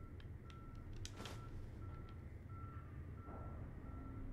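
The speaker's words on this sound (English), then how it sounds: "The truck outside. If you can hear that beeping" A truck outside sounds its reversing alarm, repeated faint tonal beeps at a steady rhythm over a low rumbling background, with a few brief clicks and a soft whoosh mixed in.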